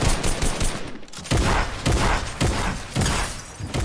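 Gunfire in the Fortnite video game, Season 10 duos, with loud, dense bursts of rapid shots repeating in clusters over a few seconds and no talk.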